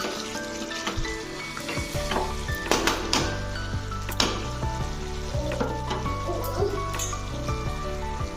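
Chopped capsicum tumbles into a pan of browned frying chicken, setting off a busy, close sizzle with clattering stirs and scraping throughout, under some faint voice-like murmurs.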